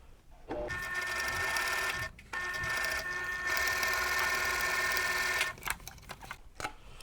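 A sewing machine stitches quilt pieces together in long, loud, steady runs, pausing briefly around two seconds and then breaking into shorter bursts toward the end.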